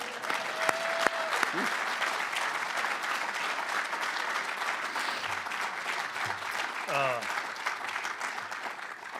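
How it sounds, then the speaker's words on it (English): An audience claps steadily for several seconds at a welcome event for the Army Director of Athletics, a broad, even wash of applause with a brief voice near the start. "Let's clap for that."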